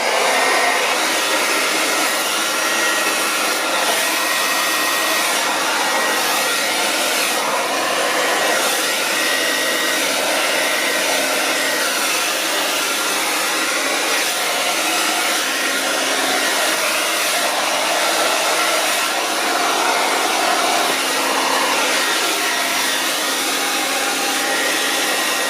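A hair dryer blows steadily and loudly over an acrylic paint pour, making a constant close, unbroken whoosh with no pauses.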